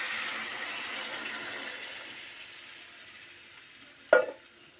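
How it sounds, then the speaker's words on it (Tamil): Water poured into a hot pan of rava kichadi base, giving a steady hiss and sizzle that slowly fades and ends in a sharp clatter near the close. "தண்ணி ஊற்றிடலாம்."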